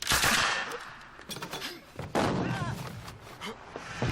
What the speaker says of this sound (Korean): 사방팔방에서 총격을 가하는 독일군